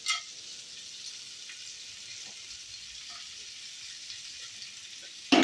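Chopped garlic and garam masala frying in a pan for tomato soup, a steady soft hiss of sizzling oil throughout with faint clicks of stirring and a brief louder scrape at the start and end.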